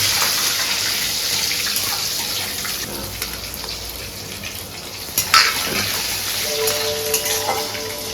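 Bay leaf, dried chilli and panch phoron fry in hot oil with a steady sizzle and stirring clatter. A sharp utensil knock comes near the end and a brief beep sounds at the close.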